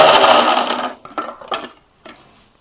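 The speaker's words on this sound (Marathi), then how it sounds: "लसूण आणि कांदा एकदम पेस्ट झाली पाहिजे बारीक, असं आपल्याला बारीक करून घ्यायचंय." A mixer grinder whirs loudly as it grinds garlic and onion to a paste, then cuts off after about a second, followed by a few clattering knocks of the jar.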